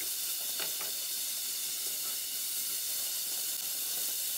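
Grated beetroot sizzles steadily in a frying pan for borscht, a continuous close hiss with a few faint clinks of stirring.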